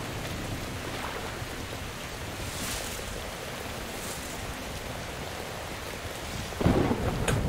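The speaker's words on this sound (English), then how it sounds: "Ooh, the storm is actually moving me." A thunderstorm in Metro Exodus roars with steady heavy rain and a dense wash of wind noise, with low rumbles of thunder rising and a sharp louder burst near the end, no talk.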